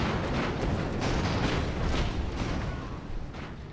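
Airship guns fire in Airships: Conquer the Skies as a dense, continuous rumble of cannon blasts and booms, loud and unbroken throughout with faint thuds pulsing through the din.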